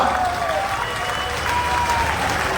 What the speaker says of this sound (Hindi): तीनों के लिए जोर से ताली बजाइए जरा।